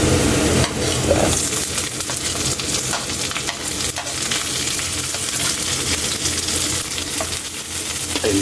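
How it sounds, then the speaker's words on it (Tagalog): Onion dropped into garlic frying in oil for pork binagoongan, giving a loud, continuous sizzle with stirring scrapes throughout. "Yung golden brown na yung bawang natin, Kaylee, ilagay na natin yung sibuyas."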